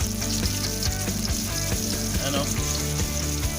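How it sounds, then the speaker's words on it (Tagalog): Garlic and onion fry in very hot oil for tinola, giving a dense, continuous close sizzle with crackling spatters throughout. "Masyado mainit yung mantika. Sunod na natin yung bawang. Tapos sibuyas."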